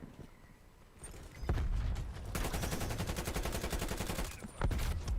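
Rapid automatic gunfire rattles in a video game shooter match, bursts running steadily for several seconds after a quieter opening, fairly close and sustained.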